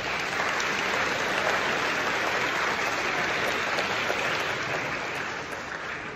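A congregation applauds inside a church during Christmas Mass. The clapping is dense and even, sustained for several seconds at moderate distance before easing slightly.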